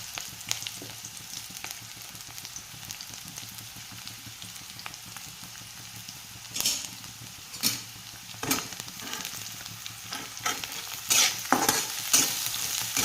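Chopped onion frying in hot oil in a pan for homemade noodles, a steady close sizzle with scraping stirs, crackling spatters that grow louder toward the end.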